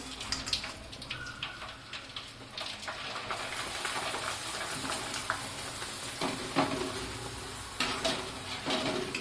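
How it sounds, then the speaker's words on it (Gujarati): A steady bubbling sizzle of rice flour wafers deep frying in hot oil, with occasional crackles and stirring clatter, no voices. "હવે આપણે મમરી એમાં તળવાની શરૂઆત કરીએ."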